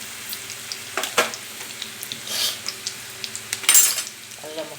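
Onions fry in a pan for godumaravva upma, with a soft sizzle under irregular clinks and scrapes of a utensil against the pan.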